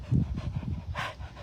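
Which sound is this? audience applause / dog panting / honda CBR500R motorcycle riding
dog panting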